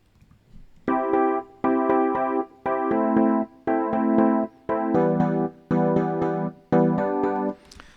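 Piano chords struck in a steady rhythm, each held briefly before a short gap, repeating eight times at moderate volume with no voices.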